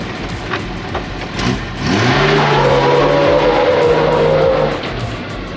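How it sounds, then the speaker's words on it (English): A vintage truck engine revs hard during burnouts, climbing from a rough idle into a loud, sustained roar with rising pitch that holds for several seconds before easing off. "How many burnouts now?"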